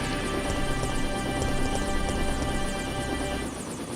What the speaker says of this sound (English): And we have our helicopter escape.